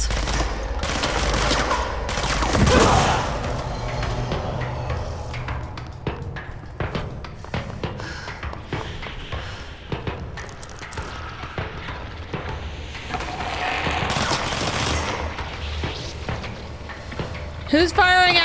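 Rapid bursts of automatic gunfire in the video game Control come in dense volleys, with loud clusters of shots early and late and quieter scattered firing between, under occasional speech.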